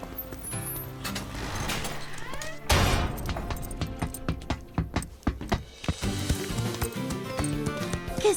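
Quarter horse hooves clip-clopping in an animated western riding scene, a run of loud, uneven thuds partway through, layered with music.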